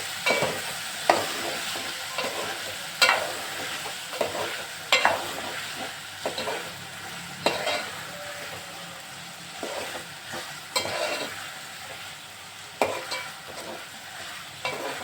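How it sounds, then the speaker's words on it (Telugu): Eggplant pieces being stirred into a tomato curry in a pan: repeated scraping stir strokes at an irregular rhythm over a soft sizzle, close and moderately loud, with no talking. "ఉప్పు నీళ్ళల్లో వేసి అవి వంకాయ ముక్కలు కూరలో వేసి బాగా కలపాలి"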